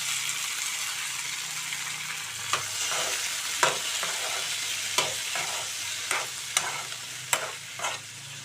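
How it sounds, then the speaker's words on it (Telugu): Green chillies and ripe tomatoes frying in oil in a pan for peanut chutney, hissing softly and steadily nearby, while a spoon knocks against the pan in a handful of sharp, scattered clinks. "చూడండి చక్కగా ఇవి వేగుతున్నాయి పచ్చిమిర్చి"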